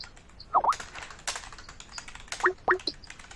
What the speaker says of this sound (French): Tu peux calmer ton clavier, il est vénère là